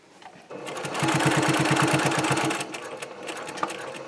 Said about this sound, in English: I'm going to sew down until I get to that fold there.